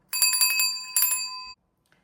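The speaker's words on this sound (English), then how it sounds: "we're going to give them a bell ring to just say thank you and to close out our connection to them at this time" A bell is rung in a rapid series of bright, clear metallic strikes, a cluster followed by one more ring that fades out, loud and close with no talking.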